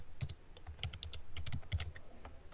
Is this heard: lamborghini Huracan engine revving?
no